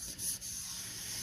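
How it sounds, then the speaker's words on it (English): Steady close abrasive rubbing as a truck frame is sanded to remove rust near the rear wheelhouse areas, a continuous scratchy hiss over a low rumble. "now I'm sanding the frame"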